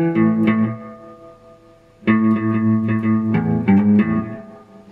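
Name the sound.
electric guitar playing a riff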